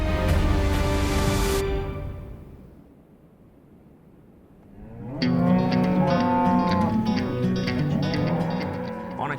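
Cattle on a cattle farm low in long, loud moos: one deep call at the start, a quiet gap, then a second drawn-out, harmonic-rich moo close by, with no voices.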